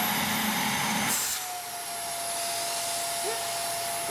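Steady, relatively quiet whine of a vacuum cleaner running with a swivelling angle tool attached, a sustained airy hum with a constant high tone, heard close with no talking.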